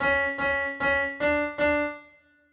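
Keyboard plays the closing phrase of the Ganesh Aarti 'Ek Dantay Vakratundaya': five evenly spaced sustained notes, close and clear, with the last note ringing out and fading alone.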